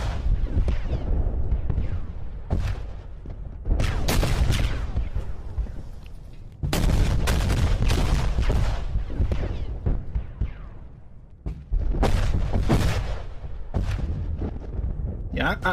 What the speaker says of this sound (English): you can even hear the artillery like fire, if you know what I mean, in the distance. Like you can hear the boom of its explosion.